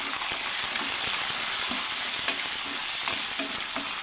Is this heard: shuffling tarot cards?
no